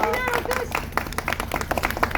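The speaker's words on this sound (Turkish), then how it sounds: "Hadi alkış." Guests at a wedding clap and applaud in a lively, uneven rhythm of sharp hand claps, close by, mixed with people talking and calling out.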